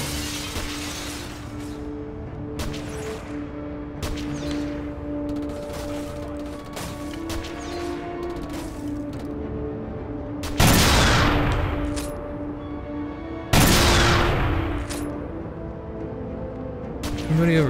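Sniper and rifle fire in the shooter game Black: repeated sharp gunshots scattered throughout, with two loud, heavy blasts standing out near the end, over a steady droning game background.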